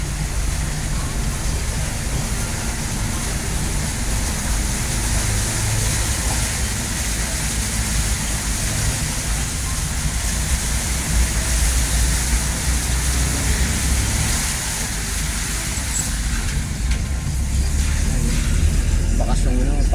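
Salty flood water running through a street at high tide in Hagonoy, a steady broadband wash and rush that continues throughout, loud and close, with a voice talking over it.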